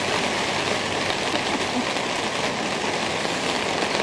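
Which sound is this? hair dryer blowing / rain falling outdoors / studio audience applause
rain falling outdoors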